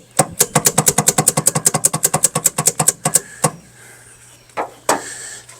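The engine of a 1964 Ford Falcon Sprint cranks over with a fast, even chugging rhythm for about three seconds without catching. A couple of short clunks and scrapes follow in quieter surroundings.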